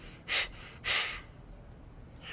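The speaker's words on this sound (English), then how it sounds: "What I'm focusing on is an active exhale through the nose." Kapalabhati pranayama breathing: two short, sharp, forceful nasal exhales about half a second apart, close and breathy, with a third starting at the end, and quiet room between them.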